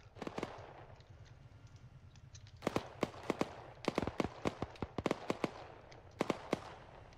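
Arma 3 gunfire cracks out in scattered single shots and short bursts over a faint hum. Some reports sound close and sharp, others farther off, with no talking over them.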